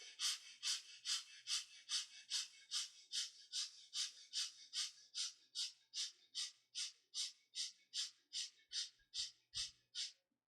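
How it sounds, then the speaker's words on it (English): Rapid, short breaths pushed into the rib cage during a guided meditation breathing exercise, about twenty evenly spaced puffs in steady rhythm, close and clear with no talk over them. "you start breathing quick and short breath into the rib cage"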